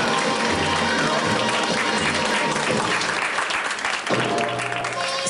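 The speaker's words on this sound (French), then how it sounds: "Je voudrais un tonnerre d'applaudissements" Loud, dense audience applause at a French burlesque striptease show, continuous and sustained throughout with a brief dip near the end.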